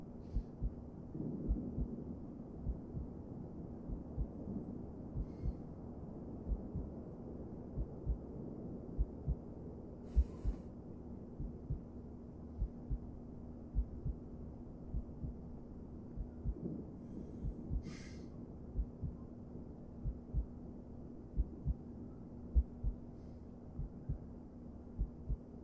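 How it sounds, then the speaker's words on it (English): A faint, steady heartbeat pulses in regular soft thumps over a low hum, with no talk, in a quiet scene from the Pampered by Rarity animation. "That heartbeat."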